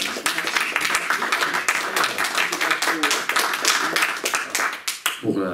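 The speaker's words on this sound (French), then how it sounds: "On va pouvoir déjà vous remercier, vous applaudir, Dominique." An audience applauds at a French book talk, dense steady clapping from many hands sustained throughout, close and fairly loud, with brief talk creeping in at the very end.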